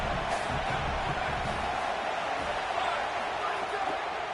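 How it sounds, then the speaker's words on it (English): A stadium crowd roars steadily throughout a college football video game, a dense constant swell beneath a commentator's voice. "This crowd knows when to bring it"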